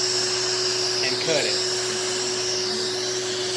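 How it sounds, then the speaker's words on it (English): Vacuum hair clippers cutting hair, the suction motor giving a steady whirring drone throughout, with a brief stronger burst as the clippers pass through hair and a voice speaking over it. "Now if I use these clippers on you, it's vacuum."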